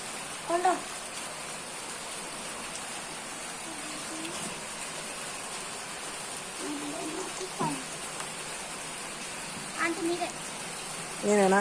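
Steady rain falling, a constant hiss of drops with a few brief faint voices and clinks breaking through.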